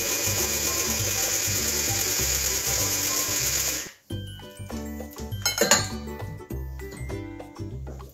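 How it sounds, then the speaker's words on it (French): Lemon fondant cake batter of flour and baking powder is whisked, with a steady mechanical whirr that cuts off midway, followed by lighter clinks and scrapes against the bowl. "Je fouette ce que j'ai mis"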